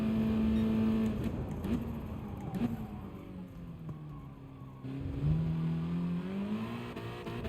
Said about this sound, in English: because it's just over revving at that point